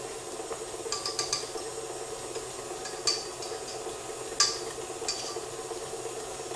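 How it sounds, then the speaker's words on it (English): Butter is worked into shortbread dough in a bowl, with sharp scrapes of a spatula against the bowl sides and a few light clinks over a faint steady background hiss, no talking. "I will still keep scraping down the sides to make sure all the butter"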